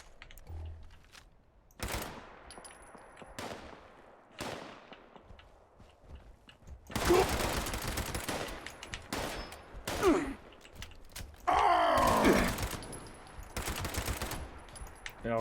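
Gunfire in the video game Fallout 76 comes in separate loud bursts: sharp single shots early on, then longer sustained volleys of rapid fire, with short quiet gaps between them.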